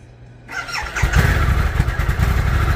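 Harley-Davidson Pan America adventure motorcycle cranking over and firing up, a quiet buzz giving way to a loud engine catch about a second in that settles into a steady, close, throbbing idle.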